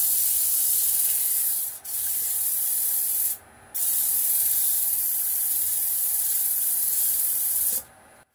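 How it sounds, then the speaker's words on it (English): A wood-turned piece is sanded as it spins on a lathe, making a loud continuous abrasive hiss that drops out briefly three times, once near the end. "So what I want to do now is do a bit of sanding in this part here"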